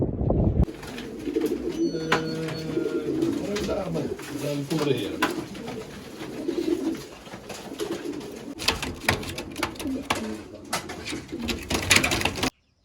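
Racing pigeons coo in a loft before a race release, several soft, throaty calls repeating close by while people talk over them and faint clicks and shuffles sound in the background.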